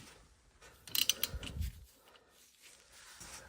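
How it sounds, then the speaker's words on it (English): A ratchet tightens a bolt while a new rear wheel bearing goes back into a 2018 Subaru Forester, giving a brief, close burst of mechanical clicks mid-clip amid quieter handling noise. "we're just pretty much tightening this bolt at this point"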